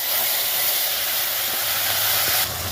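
Cumin seeds hiss and sizzle loudly in hot oil in a pan as they go into an aloo curry, a dense steady crackling fry that fills the whole stretch with no talk.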